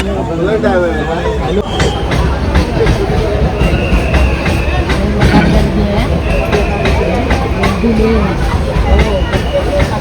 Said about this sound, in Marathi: दादरला अजून लोक चढली आहेत. डबा ऑलरेडी फुल आहे